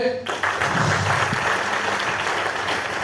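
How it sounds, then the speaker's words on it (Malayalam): A seated audience at a direct-selling company meeting claps together, a dense sustained wash of applause filling the whole few seconds after a short spoken cue at the very start. "ഒന്ന് കൈയടിച്ചേ"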